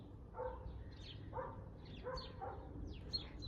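A dog in a springtime garden barks several times at a distance, in short spaced pairs, while birds chirp faintly around it.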